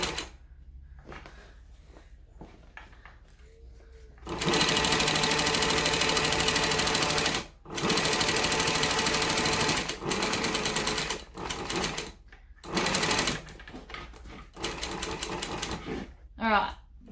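A cylinder arm sewing machine stitches a linette business bag in several loud, steady bursts of rapid mechanical whirring separated by short pauses, with quiet handling noises and brief moments of talk between runs.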